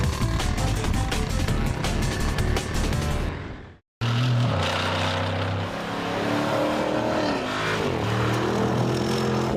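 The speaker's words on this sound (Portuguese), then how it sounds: "O motor V8 é o que movimenta esses três esportivos aqui" A V8 sports car engine revs loudly and steadily, cutting out briefly before roaring back with a rising and falling drone, close to the microphone and without talk.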